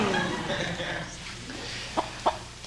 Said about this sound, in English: Kirk, give me the rooster.